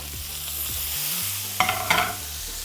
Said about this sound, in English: So next we're gonna add the onions and peppers.